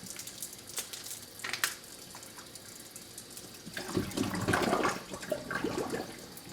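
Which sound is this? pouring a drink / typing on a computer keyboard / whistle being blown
pouring a drink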